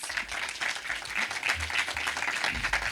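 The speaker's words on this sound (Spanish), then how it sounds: "Un aplauso para recibirla." Audience applause welcoming a guest to a film-school master class in Uruguay, steady dense clapping from a room of people lasting the whole stretch.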